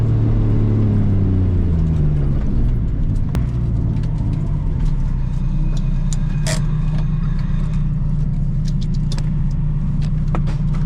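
Turbocharged Nissan Chaser drift car engine running steadily with a boost leak, a loud close rumbling drone with airy hiss and occasional sharp clicks, no voices.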